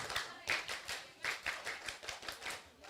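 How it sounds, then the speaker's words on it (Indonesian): Children at a storytelling competition perform the rhythmic Indonesian scout clap, a quick patterned series of sharp claps and pats in bursts, close and fairly loud. "Tepuk pramuka."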